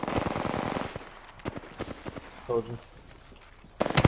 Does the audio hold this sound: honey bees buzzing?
no